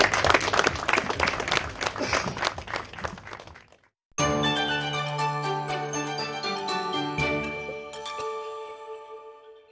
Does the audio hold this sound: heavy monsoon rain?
no